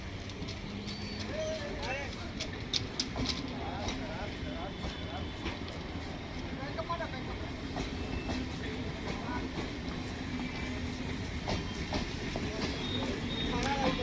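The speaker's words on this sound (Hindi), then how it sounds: "अभी ये ट्रेन जा रही है यहाँ से।" A train pulling out of Patna railway station, its steady rumbling and rail clatter running continuously, with people talking over the noise.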